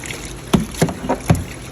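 A bulldog shakes off water after a bath, giving several quick splattering bursts close by, spaced a fraction of a second apart.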